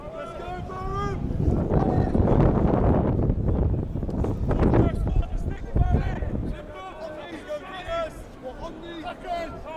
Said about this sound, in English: And to be fair to that, Byatt, there's quite a strong breeze down there.